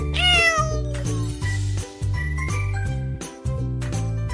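A cat meows once, a clear falling call near the start, over a bouncy jingling melody that keeps playing steadily afterward.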